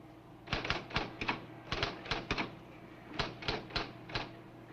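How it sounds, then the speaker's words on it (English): Keys clack on a typing machine in three quick clusters of crisp strikes with short gaps between them. The sound is near but quiet, and no voices are heard over it. "Type your answer."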